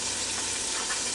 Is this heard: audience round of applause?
no